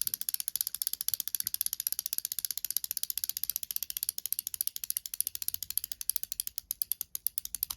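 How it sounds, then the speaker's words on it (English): Rapid, evenly spaced clicking of a Beyblade winder's ratchet as it is wound up, a long run of close, sharp mechanical ticks that grows slightly more spaced near the end, with no talking. "So you essentially get a winder with it. And so you do is you wind it up."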